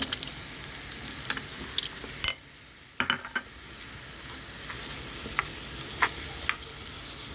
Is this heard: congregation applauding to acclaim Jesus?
no